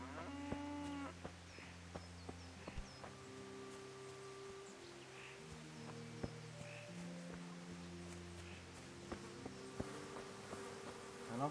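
Cattle mooing in Kingdom Come: Deliverance, a few low drawn-out calls over a constant buzz of insects and flies in a quiet rural scene, with no talk.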